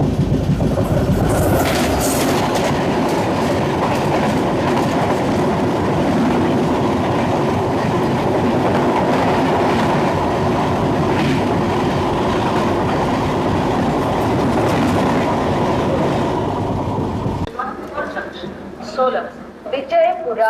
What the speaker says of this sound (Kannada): ನಮ್ಮ ಬಸವ ಎಕ್ಸ್ಪ್ರೆಸ್ ಇವಾಗ ಎಂಟರ್ ಆಗಿದ್ರಿ ವಿಜಯಪುರ ರೈಲ್ವೆ ಸ್ಟೇಷನಿಗೆ